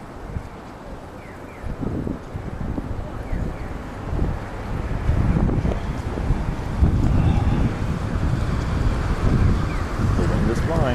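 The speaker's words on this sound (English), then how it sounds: "The wind is blowing." Wind gusting outdoors in Japan, a low rumbling buffet of microphone wind noise that swells and stays steady through the clip, with a person talking intermittently over it.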